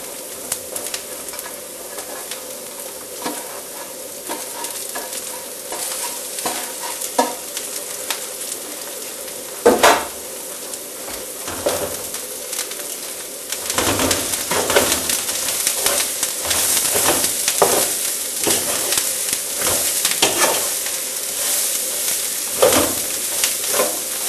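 Diced bell peppers and onion sizzle steadily in a pan for paella, a continuous crackling fry with sharper bursts and spatula scrapes as the vegetables are stirred, louder in the second half.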